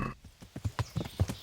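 Warhorse hooves clip-clopping in the medieval video game Kingdom Come: Deliverance, a brisk run of about six close, crisp hoof strikes at an even walking rhythm, with no voices over them.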